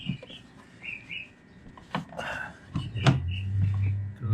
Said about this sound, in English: Hope you enjoyed the chirpy bird while I was gone.